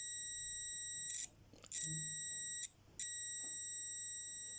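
A high, steady electronic beep tone from a multimeter continuity test on an intact cable sounds three times, each lasting about a second with brief gaps between, clear and close.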